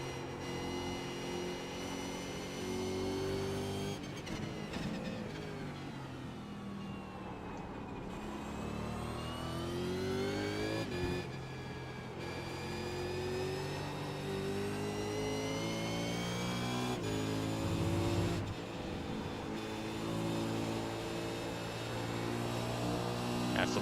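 A V8 Supercar engine howls around Phillip Island, revving and pitching up through the gears, then dropping sharply at each shift in a steady cycle of climbing, tonal roars, heard close and continuous at moderate level.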